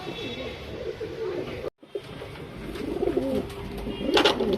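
A pigeon coos in soft, repeated throaty rolls close by, continuing through the clip alongside faint background noise.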